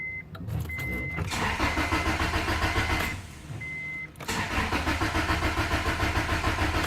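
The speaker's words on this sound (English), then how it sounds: "So we're gonna go ahead and give it a few cranks." A car engine cranks to prime the oil after an oil change, with two bursts of loud, rhythmic starter churning. A warning chime sounds during the short pause between them.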